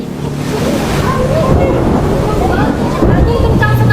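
Rough sea tossing a large ship in a staged drama, heavy surf and gusting wind roaring continuously beneath swelling music.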